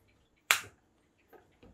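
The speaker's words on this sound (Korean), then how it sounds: "이렇게 딱 소리가 나게끔 끼시고" An 11 rpm replacement motor for an aquarium filter snaps into place with one sharp, close click, followed by two much fainter clicks.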